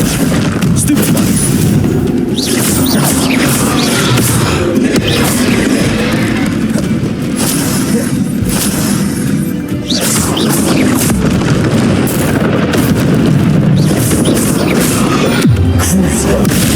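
Booming spell explosions from Bombarda and Confringo in the Hogwarts Legacy video game, a dense run of heavy blasts and crashes that goes on for the whole stretch, with a voice shouting spell names over the noise.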